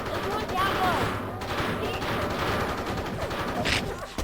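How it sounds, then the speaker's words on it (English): Rapid bursts of gunfire from a video game clan match, dense and continuous, with people talking over the shooting. "So it's so much gunfire."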